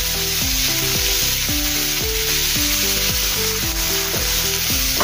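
Finely chopped onion sizzles steadily in a pan for aloo paratha while a spoon scrapes and stirs it in a regular rhythm, close and continuous.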